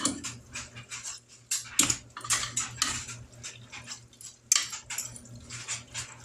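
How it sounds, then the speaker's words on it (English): A spoon scrapes and clinks around a pot of chicken spaghetti, irregular metallic stirring taps and scrapes, close and fairly loud, with no voices over it. "we're going to give this a stir"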